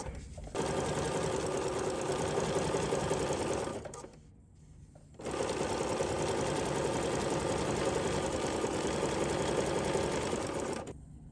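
Close sewing machine stitching a fine, delicate zigzag rolled hem along the edge of flowing fabric, a steady loud mechanical whir in two long runs separated by a brief pause.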